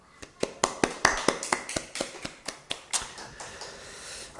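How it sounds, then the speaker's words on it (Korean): Church congregation clapping in praise during a Sunday service, sharp distinct claps in an even rhythm of roughly four per second, loud at first and gradually fading into a softer patter. "영광의 박수를 올려드리도록 하겠습니다"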